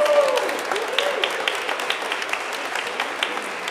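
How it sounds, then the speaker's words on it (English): An Easter church congregation applauds a brass quartet, steady close clapping that holds at an even level and thins slightly toward the end. "Can we also give a huge round of applause to our amazing brass quartet?"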